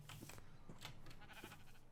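Sheep bleating in the Minecraft video game, a few short, faint bleats in quick succession over a soft game background.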